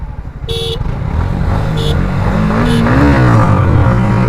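Yamaha MT15 and Suzuki Gixxer motorcycles accelerate hard in a drag race, engines revving up loudly and close with rising pitch, and no one speaking.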